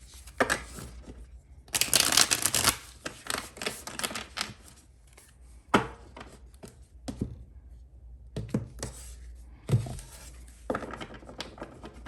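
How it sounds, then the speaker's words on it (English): A Disney Villains tarot deck shuffled by hand, with clustered bursts of crisp card riffling and snapping separated by short pauses, close and fairly loud. "This is my Disney Villains deck. I like this deck, but it's really hard to shuffle."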